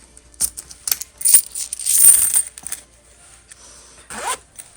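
Coins dropping into a small handmade fabric pouch, a string of light metallic clinks and brief rustling scrapes, close and fairly quiet, with a zipper-like zip near the end.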